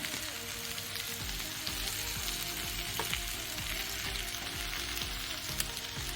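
Ivy gourd fry with grated coconut being stirred in a hot pan, with a steady sizzle and repeated scraping strokes of a spoon against the pan, close and continuous with no talking.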